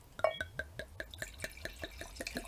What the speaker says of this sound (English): Pour a little bit in here.